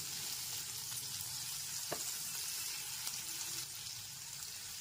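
Chopped onion frying lightly in oil over a low-to-medium gas flame, giving a steady soft sizzle throughout with a few faint clicks of stirring.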